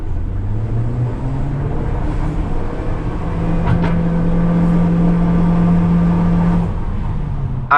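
Ford Territory SUV with a 1.5 engine pulling uphill on a dirt road, a steady engine drone that rises into a sustained tone mid-clip under cabin rumble, with no talking.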